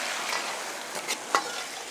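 Wild garlic sauce stir-fried in a wok with salt, Sichuan pepper powder and sugar makes a soft, steady sizzle with a few light scraping stirs, close and gentle.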